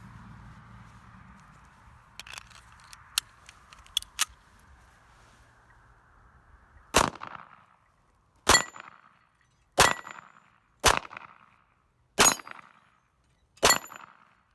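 Makarov-variant pistol shots ring off a steel target outdoors, first a few faint distant pings, then six loud separate clangs spaced about a second apart, each with a short metallic ring-out, no talk.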